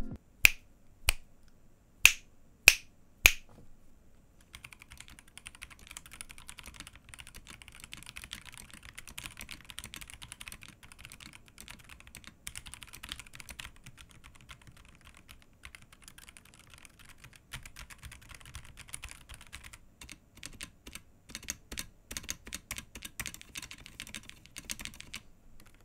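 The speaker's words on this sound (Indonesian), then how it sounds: "berikut tapping test dari DAXA M100X Ultimate versi stok." Typing on a Rexus Daxa M100X Ultimate full-size mechanical keyboard with stock switches: a few sharp separate key strikes first, then a long run of quick, dense clacking at moderate loudness, with a burst of heavier strokes near the end and no voices.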